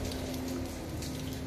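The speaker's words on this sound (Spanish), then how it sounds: "Pues estaba lloviendo." Light rain falls outdoors, a faint, steady patter of drops on surfaces with a low constant hum beneath.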